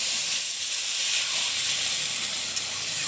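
Water poured into a hot pan of fried broken rice erupts into a loud, steady steaming hiss and sizzle that holds evenly throughout.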